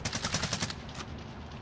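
Rapid automatic gunfire in Warzone, a close burst of evenly spaced shots that stops after about three quarters of a second, followed by a single later shot and a fading tail, with no talking.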